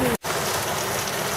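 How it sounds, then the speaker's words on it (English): Steady rain falls during a thunderstorm, a dense continuous hiss heard close by that drops out for a moment near the start and then resumes unbroken. "Guess you can all hear the rain."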